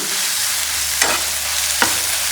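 Chicken momos frying in hot oil in a pan give a steady, dense hiss at close range, with two brief stirring scrapes cutting through the sizzle and no talking.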